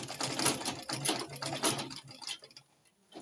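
Sewing machine stitching a flounce sleeve, a rapid rhythmic mechanical chatter running close for about two seconds, then slowing to a few scattered clicks as it stops.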